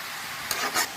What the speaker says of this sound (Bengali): এবার মশলার সাথে সবজিগুলোকে ভালো করে মিক্স করে নিয়েছি